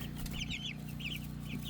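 A small flock of chickens, including a Turkin hen on an off-grid homestead, clucks and murmurs softly in short repeated phrases over a steady low background hum, at moderate distance.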